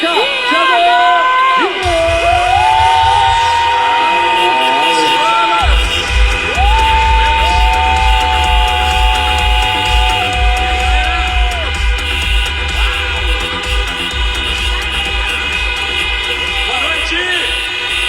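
A large crowd in a stadium, Allianz Parque, whoops and cheers loudly while someone shouts over it through an amplified sound system, the crowd noise swelling and holding under his drawn-out calls.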